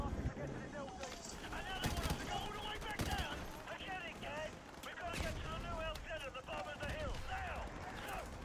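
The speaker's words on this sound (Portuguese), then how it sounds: "Agora a gente vai usar a M249 Sal." An M249 machine gun fires in short rapid bursts in Call of Duty: Modern Warfare Remastered, sharp crackling volleys amid game effects while someone talks over the gunfire.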